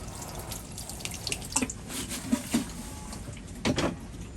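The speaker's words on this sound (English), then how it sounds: "And I'll give it a water quickly." A freshly potted cotoneaster tree collected for bonsai is watered, with a faint running trickle broken by a few splashes and drips nearby.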